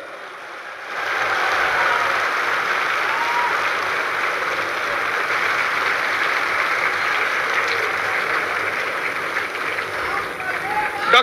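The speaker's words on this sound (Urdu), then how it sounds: "ڈاکٹر ذاکر نائک صاحب کا بھرپور تالیوں میں استقبال کیجیے." An audience breaks into sustained applause to welcome a speaker at a hall event, the clapping starting abruptly after a second and holding steady and dense until a slight fade at the end, a crowd murmur beneath it.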